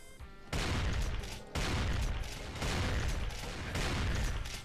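A shotgun firing in Brutal Doom, heard as four loud, booming blasts in a steady rhythm about a second apart, each with a crunchy, ringing tail, very close and dense.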